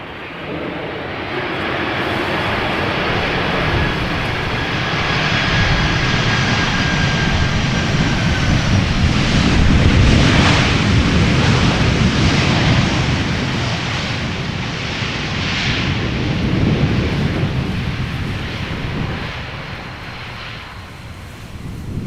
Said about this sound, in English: we have crosswind and landings on Polderbaan, runway 18 right, currently the only runway in use for arrivals